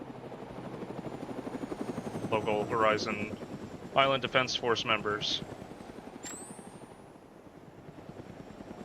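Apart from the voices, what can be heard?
helicopters flying in, from video game Arma 3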